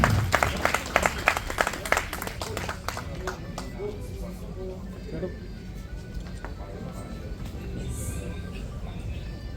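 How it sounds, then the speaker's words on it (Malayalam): Audience applause at a film production house launch event, a dense burst of clapping at the start that fades into crowd noise with talk. "നിറഞ്ഞ കൈയടികൾ നൽകാം."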